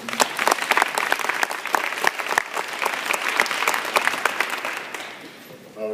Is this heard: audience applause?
yes